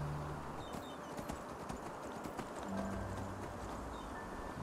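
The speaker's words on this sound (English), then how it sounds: "Whenever you summon you whistle for your horse, it's just like behind you all of a sudden." Horse hooves clip-clopping at a run in the Enderal video game as the mount gallops up after being whistled for, a steady close drumming of hoofbeats over a low ambient bed.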